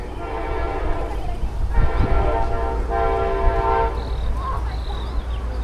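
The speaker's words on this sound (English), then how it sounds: "There's a train passing by over here." A Caltrain or Amtrak passenger train rolls by at a distance with a steady rumble, its horn sounding in sustained layered blasts that return in shorter bursts near the end.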